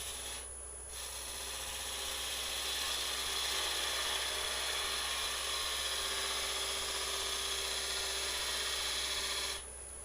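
A gouge cuts into a spinning wooden Easter egg on a lathe, producing a continuous, fairly loud rasping scrape that holds steady for several seconds over the hum of the machine before cutting off abruptly.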